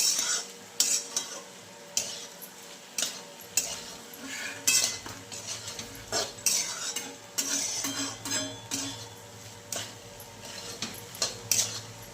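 A spoon stirs food in a pan after chili powder goes in, giving repeated close metallic scrapes and clinks in an uneven rhythm over a low, steady sizzle.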